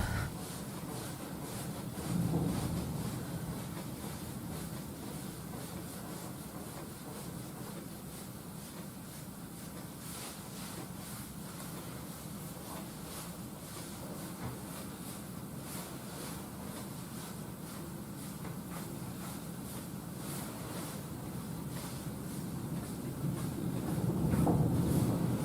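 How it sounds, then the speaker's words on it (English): Wind buffets an outdoor microphone in a steady, loud rumbling roar with gusty swells near the start and end, with no voices. "Oh, it's windy here today."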